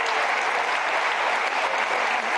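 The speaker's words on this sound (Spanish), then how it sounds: "en este momento de aplausos." Mourners at a funeral for a music maestro give sustained applause, a thick, uniform roar of many hands clapping without pause.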